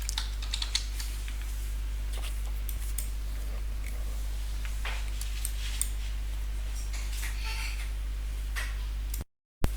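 Password being typed on a computer keyboard during a Windows Server 2025 remote desktop login, a steady run of light, quick key clicks over a constant low hum, with no talking.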